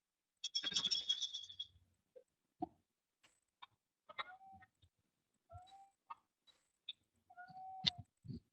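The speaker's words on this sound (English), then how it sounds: "I hope you're not hearing my cat in the background." A house cat meows in the background of a remote ROV dive call, a few quiet, short mews and chirps scattered between other faint room sounds.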